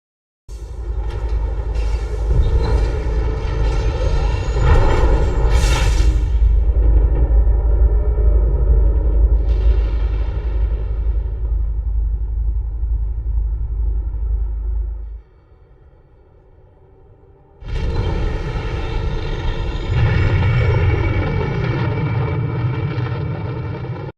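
A starship's engines from Star Wars: The Old Republic roar in a loud, steady rumble that cuts out briefly partway through, then surges back at full power, with no voices over it.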